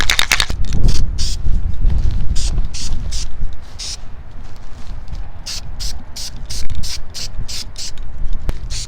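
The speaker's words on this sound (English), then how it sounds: "we're gonna take our primer, shake it up real good, and we're gonna get to spraying the whole thing" Repeated short hissing bursts of an aerosol spray can of primer being sprayed on car brakes outdoors, sputtering in quick pulses over low rumbling background noise.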